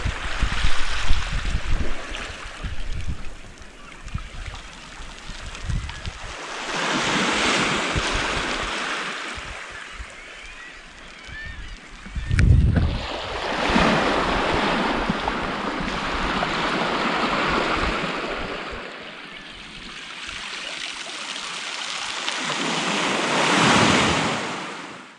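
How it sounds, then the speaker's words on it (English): Waves washing pebbles on Middle Cove Beach in Newfoundland, surges of rushing, rattling stones swelling and receding in several slow cycles, fairly close, with wind noise and no voices. "listening to the sound of the pebbles"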